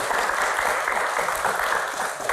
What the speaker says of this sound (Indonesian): Oke, tepuk tangan dong buat Mas Adi.